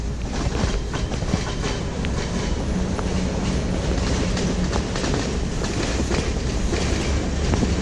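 A WAG-9 electric locomotive in a train simulator game hauls goods wagons, its steady rolling rumble and rhythmic clickety-clack of wheels over rail joints running continuously and loud throughout.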